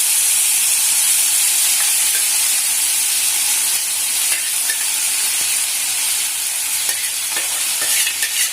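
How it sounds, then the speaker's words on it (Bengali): Tomato chutney poured into hot oil in a home kitchen sizzles and crackles loudly and continuously, a steady close-up frying hiss with occasional pops and no voices. "এবার এর মধ্যে তেলটা গরম হলে এই চাটনিটা ঢেলে দেওয়া হবে"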